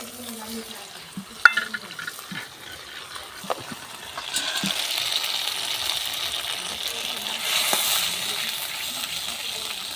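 Ground spice paste frying in a pan for a tilapia fish curry, with quiet stirring clicks and taps at first, then a steady broadband sizzle rising after a few seconds and continuing to the end.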